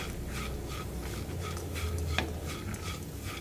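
Turmeric powder and sugar stirred together in a pan with a spoon, giving steady scraping and clinking strokes at close range, with a faint sizzle underneath and no voices.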